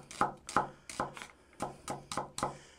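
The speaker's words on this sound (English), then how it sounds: "I'm gonna chop my onions into strips" A knife chops onions into strips on a cutting board, seven crisp, evenly spaced chops at close range with no talking.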